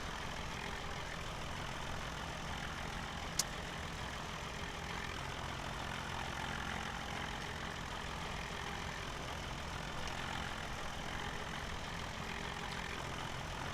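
A tractor engine in Farming Simulator 17 drones steadily and loudly throughout while the tractor works a harvested field, with a broad constant rumble and no talk.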